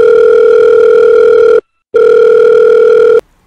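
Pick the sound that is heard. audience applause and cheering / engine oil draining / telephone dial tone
telephone dial tone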